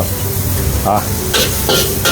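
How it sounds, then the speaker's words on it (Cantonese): Aromatics stir-fry loudly in a wok with a homemade stir-fry sauce, a strong sizzling hiss broken by a few sharp scraping strokes of the spatula, close and continuous. "料頭放一齊， 打爆香嘅料頭先。"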